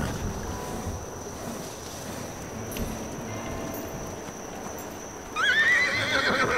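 Horse in the Roblox Wild West game, with steady clip-clop hooves and wind under a loud, close neigh near the end.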